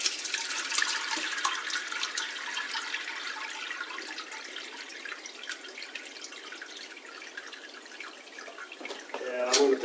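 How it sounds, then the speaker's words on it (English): Whey and fresh cheese curds are poured into a colander, giving a continuous splashing, trickling pour with drips that fades toward the end, followed by a closer clatter. "we're going to go ahead and just pour that right into this"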